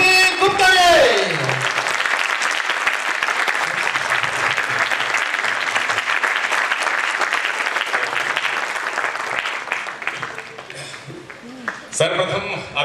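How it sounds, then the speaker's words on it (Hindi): An audience at an indoor company event breaks into loud, sustained applause welcoming a speaker, a dense wash of clapping that fades near the end as a voice starts talking. "प्लीज जोरदार ताली के साथ स्वागत कीजिए ओपी गुप्ता जी का।"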